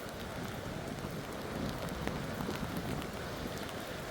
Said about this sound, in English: the rain's definitely smacking me right in the face